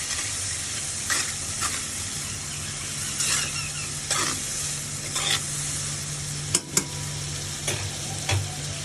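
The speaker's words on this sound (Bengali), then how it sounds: "আমি পেঁয়াজ আর চিংড়ি মাছ একসাথে একটু ভাজা ভাজা করে নেব।" Onion and prawns sizzling in hot oil while being stirred in a pan, a close, steady fry hiss broken by regular scraping strokes and a few sharper clatters.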